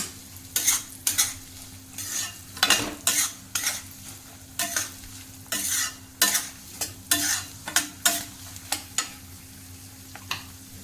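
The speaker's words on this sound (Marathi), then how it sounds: "आता आपल्याला त्याच्यामध्ये ड्रायफ्रूट टाकायचे आहे ते पण या तुपामध्ये चांगले रव्यामध्ये भाजून घ्यायचे" Dry fruits roast in ghee with semolina for sheera while a spoon scrapes the pan again and again, making repeated close, crisp strokes in an uneven rhythm over a faint, steady sizzle.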